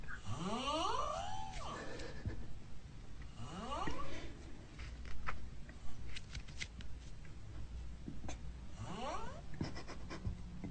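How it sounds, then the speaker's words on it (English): A person snores in odd, drawn-out rising tones that sound almost sung. Several long sweeping snores come from close by over a low steady background, with no talking. "I thought he was singing when I woke up, but he was snoring"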